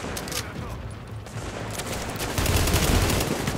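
Rapid gunfire in The Division crackles in repeated bursts over a constant rumble, growing heavier toward the end.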